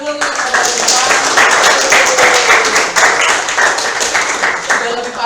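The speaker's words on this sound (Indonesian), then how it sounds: "beri tepuk tangan dulu" A classroom of students clapping together, loud and close, with a steady patter of hands that holds for several seconds while voices and some tonal sound run underneath.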